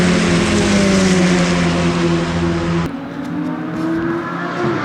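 F4 single-seater race cars at the Paul Ricard circuit roar past close by, a loud sustained engine howl that drops in pitch partway through as one car moves away and another approaches.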